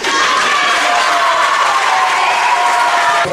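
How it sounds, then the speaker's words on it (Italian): An audience at an Italian poetry event applauds Katia Massaro with steady, full clapping and a few cheers, even and continuous from start to finish. "Facciamo un applauso ancora a Katia Massaro"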